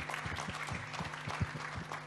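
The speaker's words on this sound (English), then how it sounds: "So I think for that, we can clap for her again" An audience claps for a University of Nairobi Students Association president at a gender equality event, dense steady applause filling the room with no talk over it.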